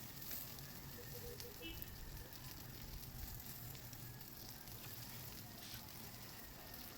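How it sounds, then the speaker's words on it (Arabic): Chicken marinated in yogurt sizzles and crackles steadily as it grills over hot charcoal, a soft, continuous hiss heard close and faint with no talk. "شي الفراخ على الفحم ده يعني مزاج"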